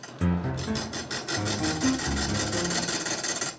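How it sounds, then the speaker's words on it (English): Stone spins on an old lathe while a chisel scrapes and chips at it, making a close, continuous gritty rasping with uneven scratchy texture and no talking. "Gary skillfully turns the stone on the lathe"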